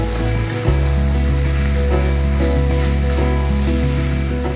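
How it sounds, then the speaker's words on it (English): Eggs and elk chorizo frying together in a pan while being stirred, giving a loud, steady sizzle with a low continuous hum underneath, heard up close with no talking. "Just give these eggs another stir. Let them kind of marry together in the pan."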